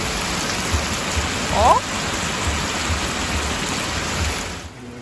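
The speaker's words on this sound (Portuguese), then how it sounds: "Como o dia tá hoje! Muita chuva, meu Deus!" Heavy rain pouring outside, a dense continuous wash of noise close by, with a brief exclamation from a woman partway through.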